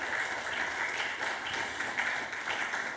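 A church congregation applauding together, a dense, steady wash of clapping held at an even, fairly loud level throughout with no speech.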